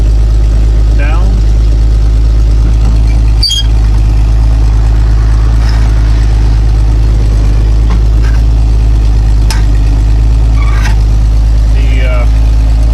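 A 1980 Jeep Cherokee Chief plow truck idles with a steady low engine drone, and a worn power steering pump and shot steering gearbox may add a whine. Someone talks over it throughout.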